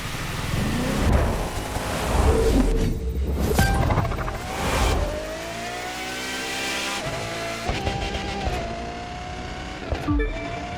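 Touring car engine in The Crew 2 on a scenic coastal highway, revving and shifting through gears with loud rising and falling tones, with brief tire squeals along the way.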